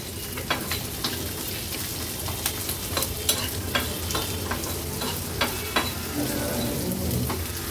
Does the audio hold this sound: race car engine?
no